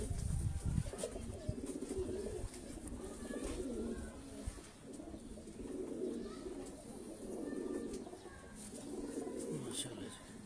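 Ali-breed pigeons cooing softly in a loft, low rolling coos repeating throughout amid faint chirps and background murmur.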